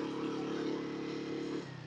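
A vehicle engine on a high mountain road in Pakistan drones steadily and fairly loud, then drops to a lower, quieter hum near the end.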